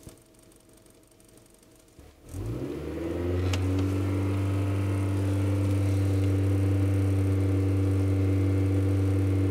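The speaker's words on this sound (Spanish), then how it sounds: "Quiero tener el menor tiempo posible el motor prendido dentro del taller" A car engine idles inside a repair workshop while it is checked for overheating, starting quiet and then settling into a loud, steady, low hum and drone that carries on without change and without talk.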